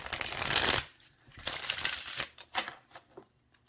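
Tarot cards are shuffled in quick riffling bursts, a loud flurry followed by several shorter rustles and taps, close by.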